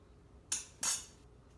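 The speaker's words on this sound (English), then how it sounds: "let me try to get this out with this little spatula" A small spatula scrapes under the first piece of three-ingredient brickle bar in a pan, two short bright scraping strokes close by in an otherwise quiet kitchen.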